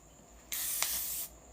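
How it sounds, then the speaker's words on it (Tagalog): Makeup setting spray fires in one sharp, continuous hissing burst of about three-quarters of a second, close and clear against a quiet background, with a brief spike partway through and no talking. "Nag-setting spray na tayo"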